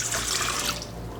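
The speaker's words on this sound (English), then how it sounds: "And then to this, we're going to add 3/4 cup warm water." Three-quarters of a cup of warm water pours into a mixing bowl for beignet dough, a close, continuous splashing rush that eases slightly toward the end.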